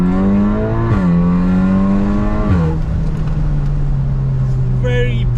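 A stage 3 tuned VW Mk8 Golf R accelerates hard with a loud, near engine note that climbs in pitch, drops at a gear change, climbs again, then settles into a steady drone after another shift.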